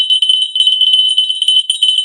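A small bell rings in a sustained, bright shimmer with repeated light strikes, close and clear with no other sounds.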